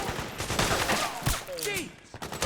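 Rapid gunfire in Metal Gear Solid 4, bursts of shots and automatic fire crackling one after another, with a voice calling out among the shots.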